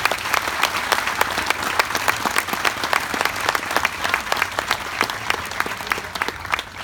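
A large audience at an outdoor opening ceremony with a memorial tribute gives a loud, sustained round of applause: many crisp individual claps crowd together without a pause, and no voices are heard.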